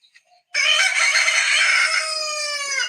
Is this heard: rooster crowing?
yes